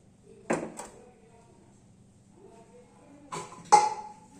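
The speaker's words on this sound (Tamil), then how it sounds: "குக்கரில் வச்ச பிரியாணி நல்லா கலக்கி விட்றேன்" A spoon stirs biryani inside a pressure cooker, giving two pairs of brief metallic knocks and clanks separated by a quiet pause, close by.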